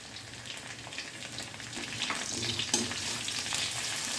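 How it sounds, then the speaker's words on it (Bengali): Potatoes added to fried onions sizzle and crackle steadily in a pan for a Bengali echorer dalna, with a brief spike of louder spattering partway through; no one speaks. "পেঁয়াজ ভাজা হয়ে গেছে, এইবার আমি এর মধ্যে আলু দিয়ে দিলাম।"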